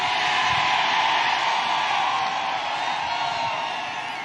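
A large crowd at a Donald Trump rally in Scranton, Pennsylvania cheers in a sustained, loud roar of voices that eases off slightly toward the end.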